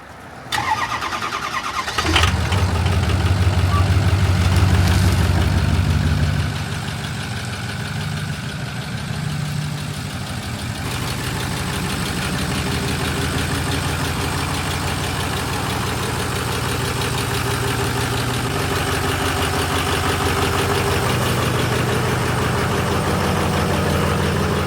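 A dump truck's engine cranks and catches, runs with a heavy rumble for a few seconds, then settles into a long, steady idle close by.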